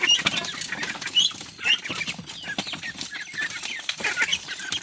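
A crowd of ducks scrambles for madre de agua leaves, a busy, close jumble of clucking calls, flapping and pecking that continues without pause and with no speech.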